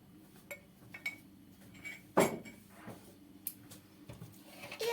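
A utensil stirs cocoa powder into cake batter in a bowl, giving soft intermittent scraping and a few light clinks against the bowl, close and quiet.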